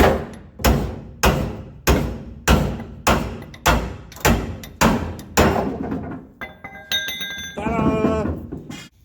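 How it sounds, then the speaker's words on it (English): A big hammer strikes the torsion bar of a 1973 Dodge Dart Swinger in about ten loud, evenly spaced metallic blows with ringing decays, followed by softer clinks and a brief ringing tone near the end. "take your big fancy hammer and apply force."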